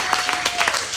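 An audience at an in-store show at Waterloo Records applauds the store staff, a short dense wash of clapping that is loud and close for about a second.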